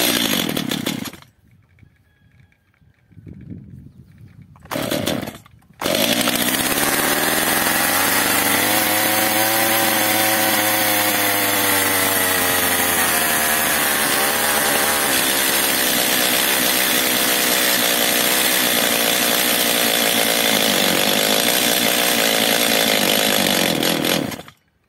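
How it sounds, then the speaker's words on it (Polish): A Stihl MS 210/230/250 chainsaw with carburettor trouble, just started on choke, idles loudly and steadily close by after a couple of brief bursts, running unevenly as if starved of fuel. "pilarka pracuje tak, jakby kończyło się paliwo"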